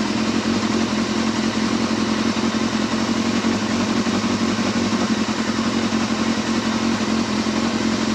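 A Yamaha Thundercat motorcycle engine idles steadily nearby, a constant rapid chugging rumble that holds even throughout with no voices over it.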